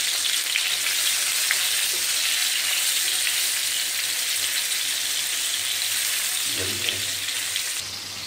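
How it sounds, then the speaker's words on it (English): Chopped pointed gourd fries in a pan, a steady close sizzle that runs throughout, with a brief scrape of stirring near the end. "Meanwhile, just stir this pointed gourd."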